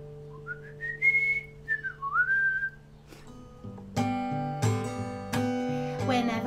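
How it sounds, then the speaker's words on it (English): A person whistles a cheerful melody in clear rising and falling phrases, then instrumental music with a steady accompaniment takes over. "maybe we could whistle a happy tune"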